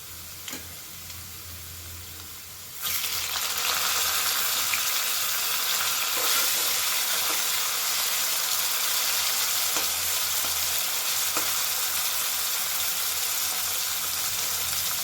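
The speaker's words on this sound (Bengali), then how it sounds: "এখন এই আলু ভাজার মধ্যে আমি দিয়ে দেব লবণ আর হলুদ মাখানো চিংড়ি মাছগুলো।" Salted, turmeric-coated shrimp hit a pan of frying potatoes. A quiet background gives way abruptly to a loud, sustained sizzle that continues to the end, with a few faint stirring clicks.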